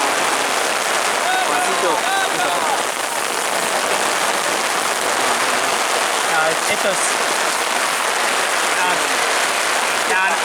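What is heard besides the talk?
heavy rain pouring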